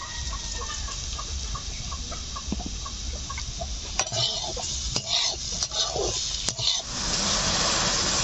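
A spoon stirs bamboo shoot pickle with freshly added sugar in a frying pan, scraping and tapping against the metal over a steady sizzle, while fowl cluck faintly in the background.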